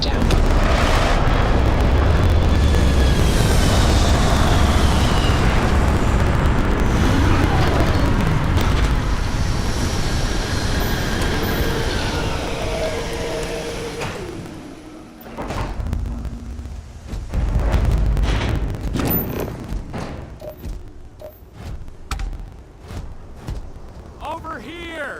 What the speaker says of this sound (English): Landing salvage clean. Let's set it down.